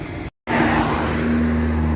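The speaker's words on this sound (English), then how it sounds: "So while you hear me out here in traffic" Road traffic rumbles steadily out on the street as a car goes by nearby, a continuous, moderately loud wash of engine and tyre noise after a brief dropout.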